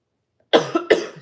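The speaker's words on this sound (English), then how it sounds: "sorry, I don't know why I'm coughing." Two quick, close coughs in a row, loud and abrupt, with nothing else around them.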